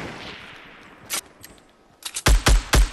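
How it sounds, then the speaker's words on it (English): Loud, close bursts of rapid gunfire in the Fortnite battle royale, several sharp volleys in quick succession after a quieter opening with a faint distant shot. "That was me, I was shooting at him."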